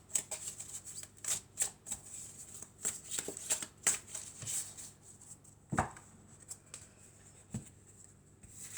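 Tarot-style cards being handled and shuffled, a quiet series of crisp flicks and soft slaps at close range, irregularly spaced, with a couple of duller taps as cards are laid down.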